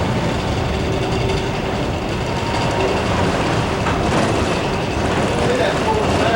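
Heavy rolling rumble of an old black Alco locomotive and train passing, steady and loud throughout, heard from a towboat on the river with voices talking over it.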